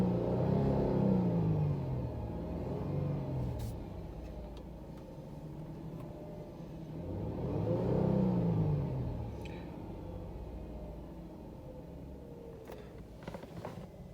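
A car engine being revved while its alternator is tested, rising twice into loud throaty swells and then falling back to a steady low idle rumble, with a few faint clicks near the end.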